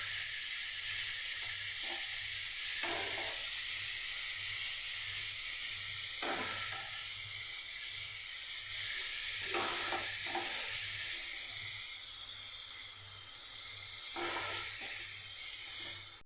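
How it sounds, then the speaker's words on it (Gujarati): Beetroot roasts over a medium gas flame in a pan, giving a steady hiss and sizzle, broken every few seconds by the brief scrape of a stirring spoon, close and soft. "મીડિયમ ગેસ ઉપર બીટને સરસ શેકી લેવાનું"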